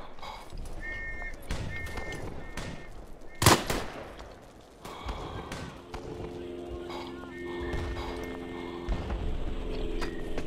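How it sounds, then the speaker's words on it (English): Battle sounds in the WWI video game Tannenberg, with bursts of gunfire, one loud sharp blast near the middle, scattered clattering and horse-like hoofbeats, fairly close over steady background noise. "Dropping mortars on it again. That jackass is on that machine gun."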